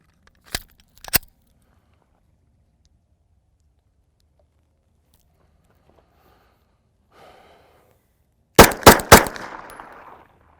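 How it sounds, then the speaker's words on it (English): Sharp 9mm pistol shots with MagTech 95-grain JSP ammunition: two separate cracks close together, a long quiet gap with faint movement, then three loud rapid-fire shots with a short echo trailing off. "3 shots rapid fire here and see if it catches them"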